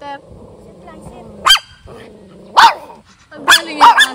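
A dog at a nature farm gives a few sharp barks, one, then another, then a quick double, close by, with people talking softly underneath.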